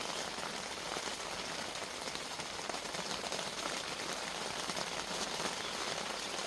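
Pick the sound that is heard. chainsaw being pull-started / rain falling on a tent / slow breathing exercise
rain falling on a tent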